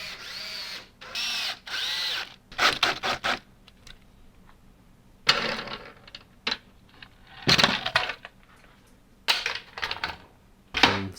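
A power drill drives screws into a shop vac cyclone mount, giving several short whirring bursts that rise and cut off, separated by quiet gaps and small clicks, loud and close.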